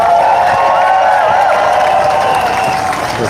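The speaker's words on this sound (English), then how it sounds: "Let's give them a round of applause." A large outdoor crowd at a veterans rally in Washington DC applauds and cheers, a loud sustained wash of clapping and shouting that fills the whole stretch.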